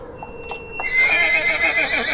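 A horse neighs in a loud, close, shrill whinny that rises and quavers for over a second, preceded by a few soft clanks and hoof clops, a rearing-horse sound effect in a narrated tale.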